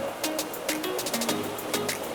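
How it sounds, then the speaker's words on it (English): Fast river water rushes and churns through pocket water in complex currents, a loud broadband splashing roar close by with bursts of spray throughout. "water is ripping right there"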